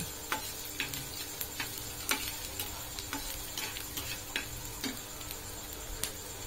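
Green chilies fry in a pan beside a dish of mushrooms, with a soft steady sizzle broken by frequent sharp clicks and taps of a spatula stirring against the metal.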